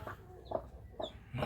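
Native chickens clucking nearby, a few short rhythmic clucks and calls in quick succession, fairly loud and close, with no talk.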